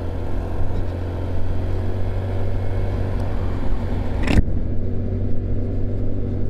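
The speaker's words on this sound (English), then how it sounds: "What is this car doing?" A car drives past on the road, its engine rumble steady and close throughout, with a sharp swelling whoosh as it passes near the end before the sound drops away.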